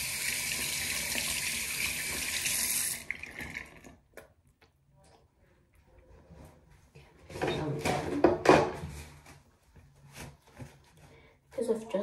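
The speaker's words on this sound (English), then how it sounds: "I'm gonna wash my hands." Tap water runs into a bathroom sink for about three seconds at the start, a steady broadband rush, then cuts off, followed by quieter handling sounds and someone talking.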